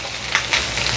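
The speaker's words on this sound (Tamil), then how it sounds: "அதையும் வதக்க போகிறோம்." Spice powder for a curry sizzles while sautéed in a pan, a steady hiss with small crackling pops and no voices.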